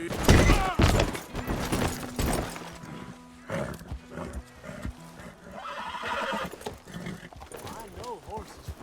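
A horse in the video game Red Dead Redemption 2 gives loud, close whinnies and snorts while hooves clop around it, and someone speaks between the calls.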